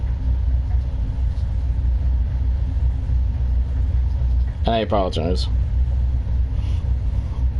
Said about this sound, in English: If you hear engine running outside, it's my fucking shitty neighbor.